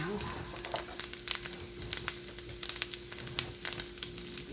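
Flour being stirred into sausage gravy frying in a pan to make a roux: a steady close sizzle with scattered crackles and spoon scrapes, continuous throughout.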